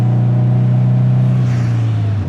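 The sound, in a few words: Subaru STi engine rumble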